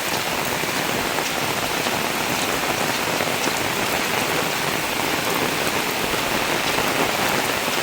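Sudden heavy rain pours down during flooding in Sri Lanka, a loud, dense and unbroken hiss of drops striking surfaces throughout, with no voices.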